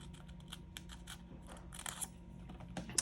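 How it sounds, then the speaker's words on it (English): Scissors cut planner paper along a crease in a series of quiet, crisp snips close by, spaced irregularly over a few seconds with faint rustling. "I'm going to take my scissors and I am going to open this up and cut there right on the"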